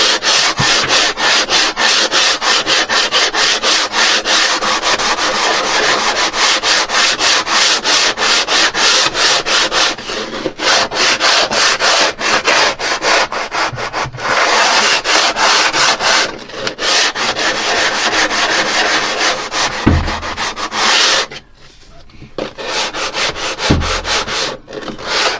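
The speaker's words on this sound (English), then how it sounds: "So let's literally just sand." Steady, close rasping of sandpaper worked back and forth over the wood of a boat's bilge stringer, continuous with a few brief pauses and no talking.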